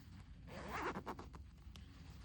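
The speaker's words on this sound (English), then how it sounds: "So we're going to close the zipper" A zipper being drawn closed on a blouse during sewing, a brief close rasping pull of about a second that swells and then trails off into quiet handling.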